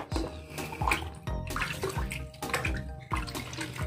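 Water splashes and pours over a prayer rug being washed by hand with fabric softener, a close, steady wet rush broken by several louder surging gushes, with no talking.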